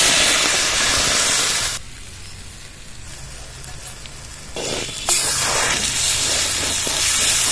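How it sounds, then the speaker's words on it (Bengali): A gram flour and potato batter hits hot mustard oil in a kadai and sizzles loudly at close range. The sizzle settles briefly, then surges again, with no voices. "কড়াইতে সর্ষের তেল দিয়ে দেবো। এবার এই মিশ্রণটা তেলের মধ্যে ছেড়ে দেবো।"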